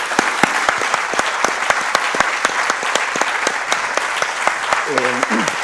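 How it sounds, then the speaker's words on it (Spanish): A forum audience in A Coruña gives loud, close applause, a thick, steady patter of many sharp hand claps, with a brief voice surfacing near the end. "Bueno, aplausos."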